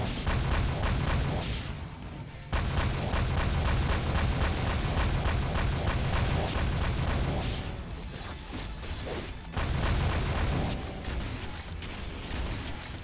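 Explosions in the video game Doom with the Project Brutality mod, a run of dense rumbling blasts that swell and fade in loud bursts over a heavy low roar, no talk.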